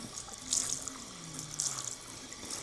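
Water runs steadily from a salon shampoo basin tap as a client's hair is rinsed, a soft continuous splashing stream with slight surges as the flow is redirected by hand.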